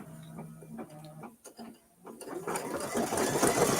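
A sewing machine stitches lettering onto a shirt block for a scarecrow project. Its rapid, even mechanical whir is close and fairly loud, starting after a brief lull with a short tone at the beginning. The whirring builds and runs steadily to the end.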